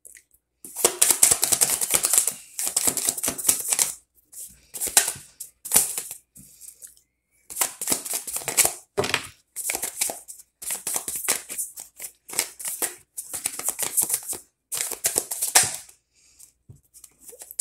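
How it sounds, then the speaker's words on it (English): Tarot cards shuffled and flipped over by hand, a close series of crisp, papery riffling bursts in short uneven clusters separated by brief silences. "Two cards flipped over."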